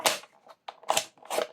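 Paper being cut for a scrapbook container pouch: three short, sharp crisp bursts of snipping, close and fairly loud, separated by brief pauses, with no talking.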